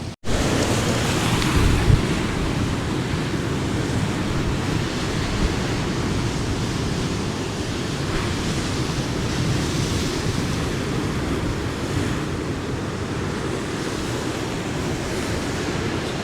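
Waves break and splash against the cliffs of the Cornwall coast between Lizard Lighthouse and Kynance Cove, a steady, loud roar of surf with wind noise that lasts throughout, with no talking.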